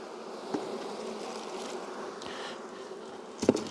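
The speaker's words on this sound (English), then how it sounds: "Get bees everywhere." Honey bees hum steadily around a mating nuc box outdoors, a dense close buzz throughout with a couple of sharp knocks and handling sounds.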